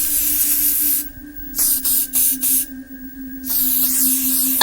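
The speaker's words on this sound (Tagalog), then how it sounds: "Kahit anong spray ko ng pabango at ng mga air freshener" Several bursts of perfume and air freshener spray hiss loudly and close, some long and some short, in a quick uneven sequence with brief pauses between them, over a steady low hum.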